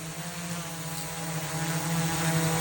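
A drone hovers and descends to land after a LiDAR scanning flight outdoors, its propellers giving a steady, loud tonal buzz with a strong low hum throughout, no voices.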